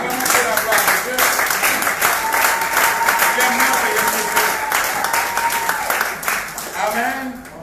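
A church congregation bursts into steady, dense applause during a worship service, sustained and loud throughout with mixed voices and cheering woven under the clapping.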